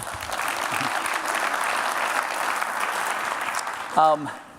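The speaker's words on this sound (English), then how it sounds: "Yes, feel free to applause." A conference audience at a London tech event applauds steadily, a dense wash of clapping filling the hall for about four seconds, with a brief voice rising near the end.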